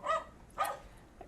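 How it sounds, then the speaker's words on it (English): Dogs barking played as background noise in a busy simulated environment, two short sharp barks about half a second apart, fairly close and clear. "We have some dogs barking"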